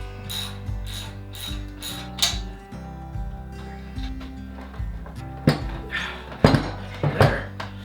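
A ratchet tightens 16 mm bolts on a hidden winch mount being fitted to a Ford Bronco. Bursts of quick, close metallic clicking repeat in steady strokes, with a few sharper knocks near the end.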